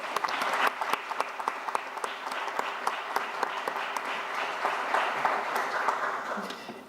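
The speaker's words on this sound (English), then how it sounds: "Let's please give Jenna a round of applause for that." Audience applause at a campus equality event, a sustained crowd of clapping with crisp individual claps punctuating it, holding steady before easing slightly at the close.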